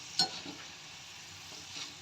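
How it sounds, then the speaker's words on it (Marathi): Dal fries in oil for chivda, a faint soft sizzle with a brief clack of a stirring spoon near the start. "तळताना अशी वरती आली की समजायचं तळली म्हणून"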